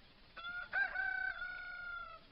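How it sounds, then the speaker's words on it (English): A chicken crows loudly nearby in one long, drawn-out cock-a-doodle-doo with a short call just before it, against a quiet background and with no talking. "Our chickens are joining in there."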